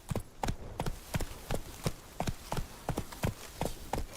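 Hooves of Roach, a horse galloping in a video game, beat out a quick, regular clip-clop rhythm, close and clear, with no speech over it.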